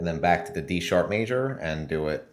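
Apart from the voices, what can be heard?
No distinct noise like a dog, phone or traffic.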